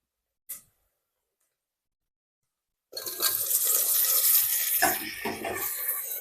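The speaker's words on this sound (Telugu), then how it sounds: "ఇప్పుడు టమాటా ముక్కలు వేసుకోవాలి" Tomato pieces drop into a hot pan for country chicken curry. After a brief tap and a long silence, a loud, close sizzling hiss bursts up and carries on steadily with a few scraping knocks.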